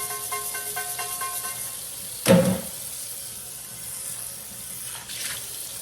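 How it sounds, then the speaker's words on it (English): Water runs into a sink while a cast iron skillet is rinsed, a steady hiss with a sudden louder splash midway and softer sloshing after. "we'll keep rinsing it and soaping it up and rinsing it and soaping it up until we get it as perfect as we can"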